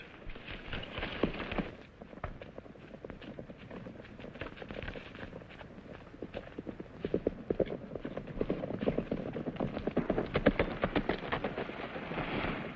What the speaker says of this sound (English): He's trying to steal the mares. He's a smart horse.